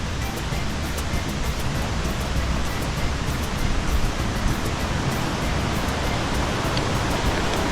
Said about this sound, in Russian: Здесь я слышу шум воды.